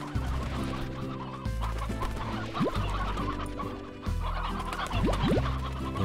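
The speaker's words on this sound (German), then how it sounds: "hier ein paar Küken verteilen" Chickens cluck and a rooster calls repeatedly in the video game Slime Rancher, a busy overlapping flock of clucks and short rising squawks, close and clear with no talk.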